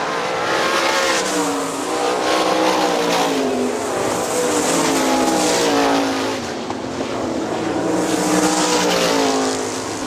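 Several 410 sprint cars race at Hartford Speedway Park in Michigan, a loud, steady engine roar with rising and falling revs as the cars pass through the turns, continuous for the whole stretch with no voices.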